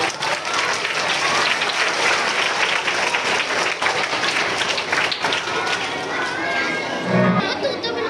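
Audience applause at a school Ramlila stage performance, a sustained wash of clapping and crowd noise that holds steady throughout, with voices in the mix.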